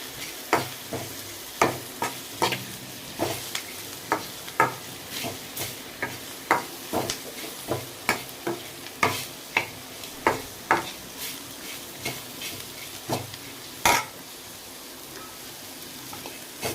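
Spicy okra is stirred as it fries in a pan, with a steady series of short scraping stirs about every half second over a soft continuous sizzle, close and moderately loud with no talking.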